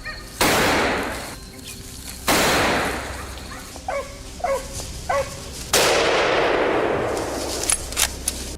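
Hunting rifle shots fired at a wild boar, three loud sharp cracks with long echoing tails, interspersed with a dog's short barks and yelps in between.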